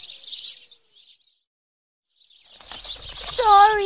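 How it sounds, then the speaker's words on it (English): Birds flutter their wings in a short hissy burst, then fall silent before another rush of flapping ends in several bright, rising chirps close by. "Bad birds."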